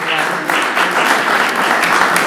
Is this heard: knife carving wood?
no